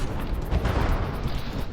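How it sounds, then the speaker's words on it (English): A single warship cannon fires in From the Depths, a heavy booming blast with a rolling low rumble that fills the short moment loudly and up close. "Which is firing away with its single cannon."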